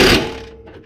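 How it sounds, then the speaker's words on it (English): A single metallic clunk of a torque wrench tightening a rear camber arm bolt on a Nissan 370Z, close and brief, with a quick fading ring afterward and no talk. "Now I'm gonna torque it down"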